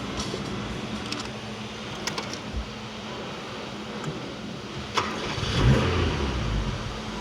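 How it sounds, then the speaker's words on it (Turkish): An original-engined 1993 Tofaş Doğan SLX fitted with an LPG tank starts up and idles with a low rumble, then revs to a brief louder surge, heard close with no talking. "Aracımızı çalıştıralım."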